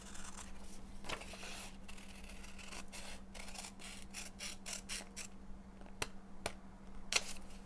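Scissors snipping through swimsuit pattern fabric at close range, a faint run of quick rhythmic cuts with a few sharper clicks toward the end, over a low steady hum and no talking.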